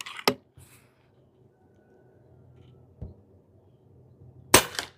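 Pinty 9 .22 caliber bullpup PCP air gun firing pellets, with three sharp loud cracks spaced apart by quiet pauses and a faint low rumble between shots.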